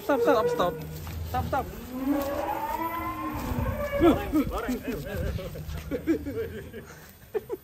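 A cow moos in long, drawn-out lows, with more cattle calling nearby; people talk in the background throughout.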